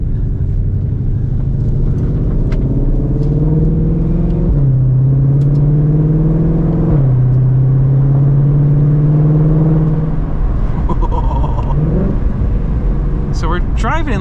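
A Ford Mustang Shelby GT500 engine under way, a loud, close, droning roar that rises in pitch, drops at gear changes and climbs again, with a voice talking over it near the end.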